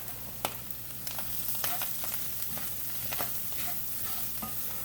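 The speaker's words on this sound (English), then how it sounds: "you want this stuff to keep moving. It's almost like stir frying" Ramen ingredients frying in butter and oil in a pan while being stirred, a continuous close sizzle with repeated scraping strikes of a utensil against the pan.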